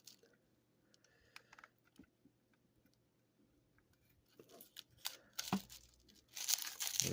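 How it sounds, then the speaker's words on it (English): Protective tape being peeled off a 1/24 scale Wuling Mini EV toy car model box starts with faint scattered crinkles and small ticks, then builds to louder close tearing and crackling rips toward the end. "Got that tape off."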